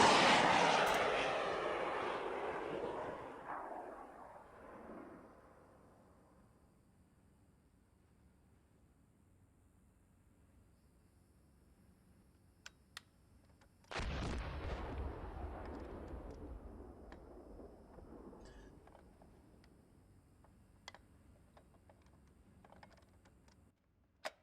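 Incoming fire in the Steel Beasts Pro PE tank simulation game: a loud heavy blast rumbling off into a long decay, quiet, then a second deep impact around mid-clip fading out, with faint clicks between.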